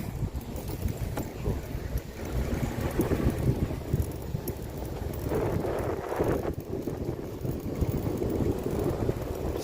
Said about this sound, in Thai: มีลมเลยเนะพี่น้องเนาะเพราะว่าอยู่ข้างนอกมันลมเลยเนาะ